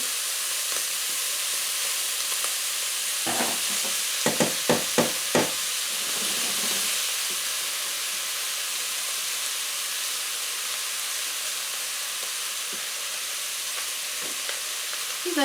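Onion and beef frying together in a pan, a steady sizzle throughout with a few sharp clicks and stirring clatters early on, close and moderately loud with no talk.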